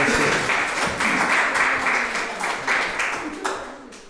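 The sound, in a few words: audience applause at poetry reading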